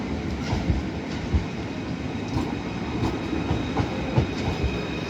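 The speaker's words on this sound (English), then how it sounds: "The plan for today is to make my way towards Liverpool on Merseyrail" A Merseyrail train travelling towards Liverpool, heard from inside the carriage as a continuous loud rumble with faint wheel clicks and rail noise, no talking.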